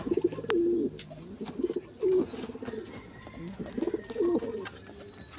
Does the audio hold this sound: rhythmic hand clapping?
no